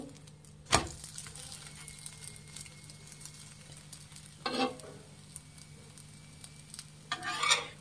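Obbattu flatbread cooks on a hot pan over a high flame, giving a faint steady sizzle with a sharp knock and a few brief bursts of scraping or stirring, no talking.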